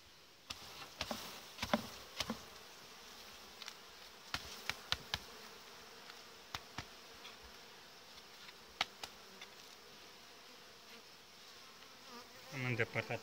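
Honey bees buzz around a beekeeper's hive frames in a small August nucleus colony, a steady close drone broken by scattered clicks and knocks of frames being handled.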